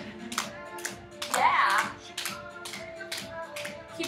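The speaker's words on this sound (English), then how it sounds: "Now put your hands so they're facing each other, pinkies up, and clap, clap, clap, clap." Rhythmic hand claps from a dance fitness class, sharp regular beats in steady time over background music, with a brief spoken word and louder sustained sound in the middle.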